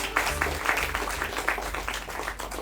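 Audience applause at an Indian Cancer Society event celebrating resilience, with steady, moderately loud clapping from a crowd filling the whole stretch.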